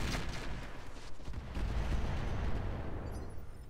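An artillery barrage in the Roguetech video game: a rolling series of heavy, booming impacts that swell into a thick, continuous rumble. The sound is moderately loud and fades slightly toward the end.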